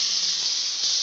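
Chopped tomatoes hitting hot oil in a pan make a steady, bright hiss that carries on for about a second with no voices.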